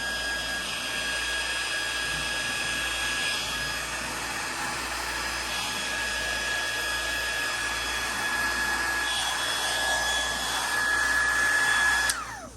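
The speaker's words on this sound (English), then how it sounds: "I want to show you how I use the heat gun." Heat gun blowing hot air in a steady, loud, continuous whoosh that holds close and even throughout, with a rise just before it cuts off near the end; no speech.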